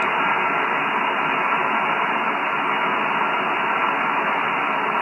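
Loud, steady hiss of static fills a ham radio receiver tuned to a sideband band, a dense wash of noise holding constant throughout with no clear signals rising above it.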